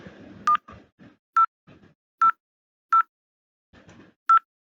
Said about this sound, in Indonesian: kita telepon, atau kita pencet teleponnya